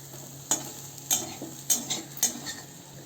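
A spoon stirs besan bhurji with fresh coriander in a pan on medium heat, four or five sharp scraping knocks against the pan over a faint low sizzle.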